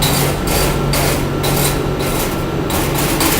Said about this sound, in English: I'm going to go ahead and chip away the top one.